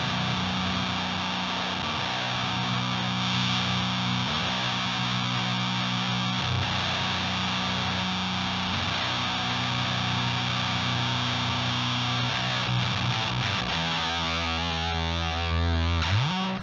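A heavily distorted electric guitar through a Neural DSP Guilherme Miranda amp plugin with a thick, buzzing HM2-style tone plays sustained, droning chords, loud and alone, changing pitch near the end.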